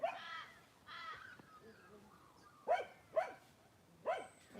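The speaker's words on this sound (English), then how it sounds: "Big crow going over here." A large crow passes overhead, giving a few loud, hoarse caws separated by short pauses, close and clear in an outdoor setting, with a dog-like bark-ish quality in the calls.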